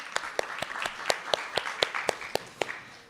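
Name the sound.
audience applause in a class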